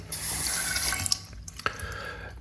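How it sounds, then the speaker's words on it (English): Water drips from a leaking sink faucet, a few sharp drops landing over a steady low running-water hiss, close and fairly quiet with no talking. "is it the hot side or is it the cold side that's dripping?"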